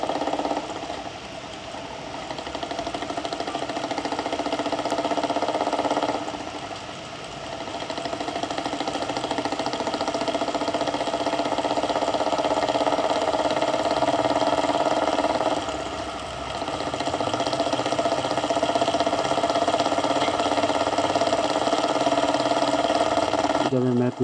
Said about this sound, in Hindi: तो हमारे साथ आप भी राइड का मज़ा लीजिए और थंपिंग साउंड को एंजॉय कीजिए।